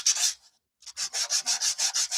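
Sandpaper rubbed over a painted wooden door hanger to distress the acrylic finish, heard as a brief stroke, a pause, then a steady run of about nine rhythmic back-and-forth rubs, close and fairly loud.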